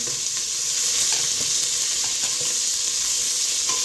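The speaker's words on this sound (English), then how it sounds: "And this is splattering" Carne guisada fries hard in a pan, a loud continuous sizzle with sharp spatters and pops of grease scattered throughout, close up and with no talking.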